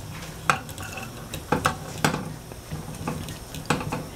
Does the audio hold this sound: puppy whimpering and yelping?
no